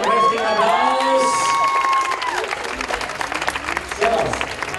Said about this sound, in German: Gebt's einen kräftigen Applaus.